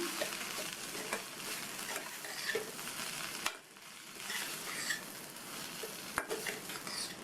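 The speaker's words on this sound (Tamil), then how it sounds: "எண்ணெயில் பொரித்த வாழைக்காயை இதில் சேர்த்துட்டு நல்லா ஒரு தடவை மிக்ஸ் பண்ணி விட்டுக்கணும்" Fried plantain stirred into masala in a pan, a steady close sizzle with repeated scraping stirs and light clinks of the spoon against the pan, loud and continuous.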